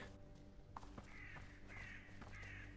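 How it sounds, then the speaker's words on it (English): Crows in the video game Bramble: The Mountain King give three drawn-out caws at a regular pace over a low rumbling game background, fairly faint and with no talking. "Lag. It's the crows."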